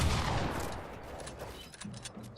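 Gunfire in a one-on-one shooting video game, a dense burst of overlapping rapid shots that starts loud and fades, followed by scattered fainter pops.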